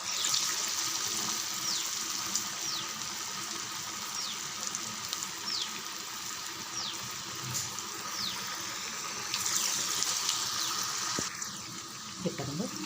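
Cabbage bonda balls frying in hot oil give a steady, dense sizzle with bubbling, continuous and fairly close throughout.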